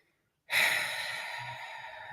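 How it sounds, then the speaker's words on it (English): A single long, breathy snore from a dog starts abruptly and drones on, fairly close, with a low rumble underneath and no talking. "Now you want to snore loud."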